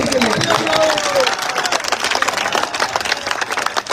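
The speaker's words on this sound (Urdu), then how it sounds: "تالیاں بجائیں ان کے لیے." Crowd clapping and cheering at a political rally in Lahore, a dense, loud, continuous wash of applause filling the whole stretch, with voices mixed in.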